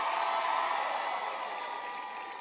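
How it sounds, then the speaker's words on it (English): Rally crowd in Columbus, Ohio applauding, a broad steady wash of clapping and cheering heard from a distance, fading slightly toward the end. "can everybody please give Sonia a big round of applause for that great introduction?"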